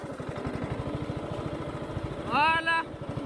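Honda riding lawn mower tractor engine running steadily under load on a slope, a continuous low throbbing pulse throughout, close by, with a brief voice speaking over it near the end.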